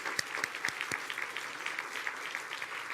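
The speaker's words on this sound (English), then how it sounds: "So I want to give them another round of applause as well." Audience applause at a symposium luncheon, a steady patter of many hands clapping at moderate distance, sustained evenly throughout with a few sharper individual claps near the start.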